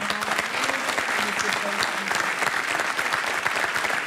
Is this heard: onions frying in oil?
no